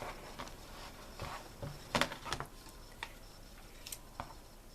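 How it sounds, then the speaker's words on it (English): Scissors snip through sweatshirt fabric in a series of faint, close, crisp clicks and crunches with uneven spacing against a quiet room. "I'm just going to take my scissor and I'm just going to cut this in half."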